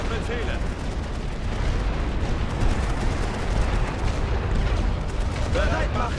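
Machine guns firing in a Great War Western Front strategy game, a dense continuous roar of gunfire and booming explosions that fills the whole stretch without letting up.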